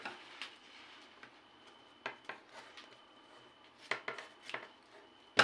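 Scissors snipping off excess ribbon while crafting a baby mobile, several faint, quiet clicks scattered through a near-silent room.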